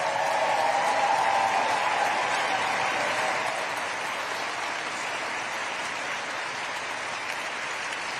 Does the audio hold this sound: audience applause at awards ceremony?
yes